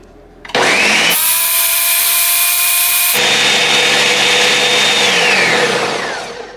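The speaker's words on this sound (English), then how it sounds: "we're gonna turn it on, and we're gonna just blend this up until it's really," Cauliflower cheese sauce whirs in a blender, starting with a loud motor surge that shifts pitch partway through as it speeds up, then runs steadily and winds down at the end.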